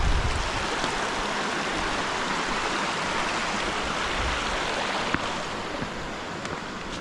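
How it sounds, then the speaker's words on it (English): Steady rushing of a stream flowing at a crossing just above a waterfall on a Highland trail, a dense broadband wash of water that stays loud and constant throughout, with no voices. "this is the crossing above the waterfall"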